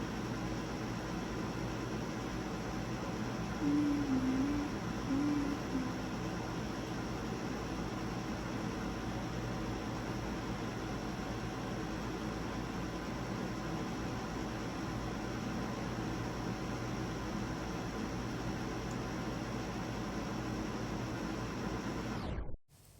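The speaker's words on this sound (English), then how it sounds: "That is my AC unit, and it's going pretty crazy right now." A loud air conditioning unit runs steadily for the whole stretch as a dense, constant broadband roar, stopping abruptly at the very end.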